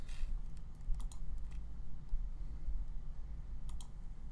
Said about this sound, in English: I'm left clicking, then I'll press enter.